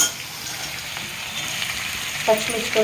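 Green chillies, ginger and garlic frying in a pan for masala puri, a low steady sizzle that swells slightly, ending with a few sharp metallic knocks.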